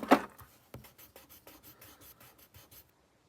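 A pen writes the word "Moonwater" in a series of short scratchy strokes on paper, starting with a louder initial stroke and then quicker, lighter marks that stop near the end.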